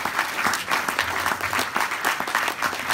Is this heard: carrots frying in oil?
no